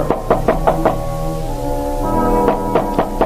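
Two bursts of four sharp knuckle knocks on a front door, separated by a sustained low droning tone that hums underneath throughout, from a 1951 radio drama broadcast.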